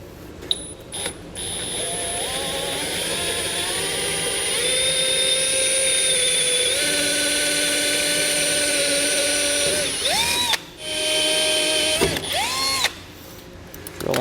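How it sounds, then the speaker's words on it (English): A power drill whines steadily while boring out rivets, its pitch shifting as it bites, then stopping and spinning up again in short bursts. "with these, you just drill out the center"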